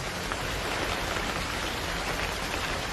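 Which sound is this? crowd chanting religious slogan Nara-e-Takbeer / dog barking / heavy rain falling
heavy rain falling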